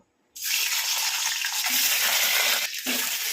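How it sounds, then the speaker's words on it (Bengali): Eggs frying in hot mustard oil in a wok over a lowered gas flame: a loud, steady sizzle bursts in abruptly and carries on without a break, close and alone with no talking. "এবার আমি এই তেলে ডিমগুলো হালকা করে একটু ভেজে নেব।"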